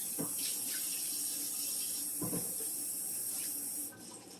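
Hot water runs from a kitchen tap for cleaning countertops, a steady hissing stream with a couple of brief clunks and splashes, then the flow drops quieter near the end.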